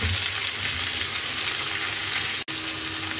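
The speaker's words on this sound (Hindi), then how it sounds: "डाल दिया है इसको हम भून लेते हैं।" Chopped vegetables fry in a pan for a mild home-style curry, giving a steady, close, even sizzle with no voices and one brief dropout near the end.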